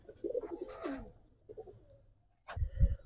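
Giribaz pigeons coo in short, soft bursts at close range, the rolling calls starting and fading, with a louder low throaty coo near the end.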